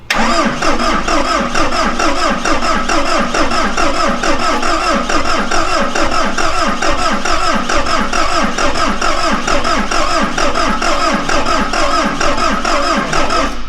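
A medium engine cranks steadily and catches after its fuel injectors have been bled, a loud, close, continuous churning that keeps a fast uneven rhythm for the whole stretch, with no talk over it.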